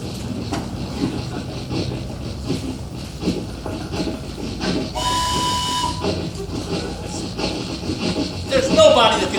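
A steam whistle shrieks for about a second amid loud rumbling train noise during a stage melodrama, with voices talking over it.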